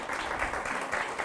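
Applause from a conference audience, a brief, moderately quiet wash of many clapping hands with no clear individual claps standing out.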